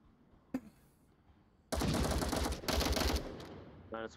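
Gunfire in the VR shooter Onward, with a single sharp crack followed by a dense, loud automatic burst lasting a couple of seconds, then a short tail of sound.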